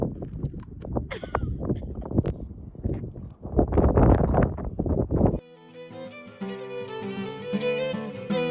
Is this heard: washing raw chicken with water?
no